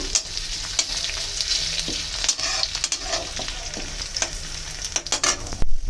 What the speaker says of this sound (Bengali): এবার দিলাম কালো জিরে হাফ চামচ। এখন একটু নেড়ে ছেড়ে নেব।